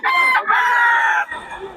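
A Sweater Gilmore bloodline gamefowl rooster crows loud and close in one full cock-a-doodle-doo, with a short break near the start and a quieter, rough tail at the end. No one speaks.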